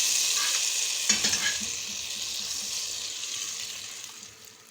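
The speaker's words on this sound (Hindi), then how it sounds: "इसको अच्छी तरह मिक्स कर लेंगे।" Chicken corn soup being stirred in a pot with the flame turned off, a soft bright hissing wash with a brief cluster of spoon clinks and stirring noises, fading gradually toward the end, with no one speaking.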